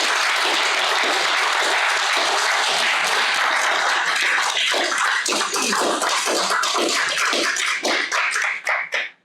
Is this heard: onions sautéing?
no